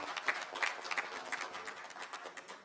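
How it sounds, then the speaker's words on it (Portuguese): A crowd applauds at a public hearing, many hands clapping quickly and continuously over a couple of seconds, fairly close. "eu quero pedir uma salva de palmas para os deputados que tiveram aqui"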